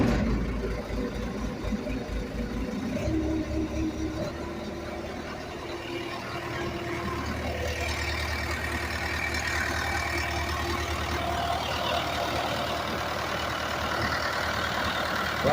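A vehicle engine turns over briefly, then keeps running at a steady idle, a low continuous rumble heard nearby without talk.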